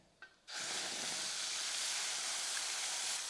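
Ground masala paste hits hot oil with fennel seeds and asafoetida, bursting into a loud, steady close-up sizzle that holds unbroken after a brief clink, with no voices.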